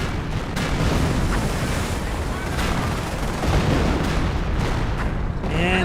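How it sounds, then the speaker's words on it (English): An artillery barrage in the Company of Heroes strategy game pounds without pause, with dense overlapping booms and gunfire cracks that stay loud and close for the whole stretch, and a voice briefly speaks near the end. "And this guy maybe will escape out the artillery barrage."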